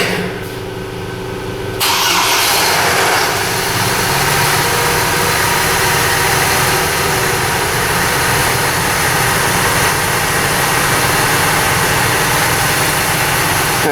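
A Chevy Colorado engine, one showing a P0017 camshaft timing fault, cranks and catches about two seconds in, then settles into a loud, steady idle that runs on alone to the end.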